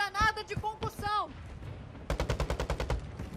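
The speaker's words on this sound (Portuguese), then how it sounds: "Tô ouvindo tiro lá, ó." In Call of Duty: Warzone 2.0, a rapid burst of gunfire, about ten quick evenly spaced shots in a row, follows a short stretch of voices and clatter.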